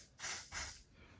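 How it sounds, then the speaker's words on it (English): Setting spray hisses onto a beauty blender sponge in two short, close bursts from a pump bottle, faint in level and heard without talk. "I spray it on my beauty blender"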